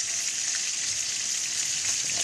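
Tulingan fish frying in hot oil makes a close, steady sizzle and crackle without a break, with no voices.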